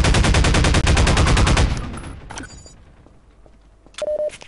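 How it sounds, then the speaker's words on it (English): Rapid SMG gunfire in Half-Life 2, a loud, fast burst of automatic shots lasting under two seconds, followed by scattered mechanical clicks and a short electronic tone. "I like using the SMG though, it saves a lot of ammo."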